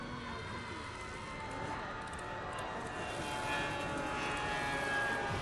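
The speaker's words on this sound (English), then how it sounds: "Did the plane really crash?" Aircraft engine roar from a plane crash scene in the video game BioShock, a sustained, steadily swelling engine drone that grows louder toward the end, with no distinct impact heard.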